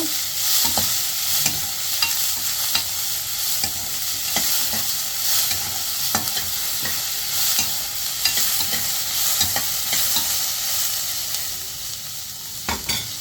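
Ivy gourd, onions and green chillies stirred in a pan for a diet dondakaya pachadi, a steady hiss of frying under repeated scraping strokes of a spoon, close and fairly loud, with no voices.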